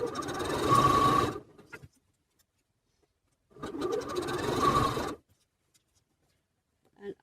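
A sewing machine stitches colour-blocked bucket hat fabric in two steady bursts of rapid mechanical whirring, each lasting over a second, separated by silence, with a brief faint tap at the end.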